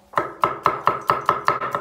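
Rapid knife chopping of garlic on a cutting board, about eight sharp, evenly spaced chops in quick succession, close and clear with no talking.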